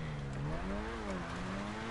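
Furia sports car in a video game, its engine droning steadily with a rising and falling pitch as it drives, with a faint tire squeal in the mix and no voices.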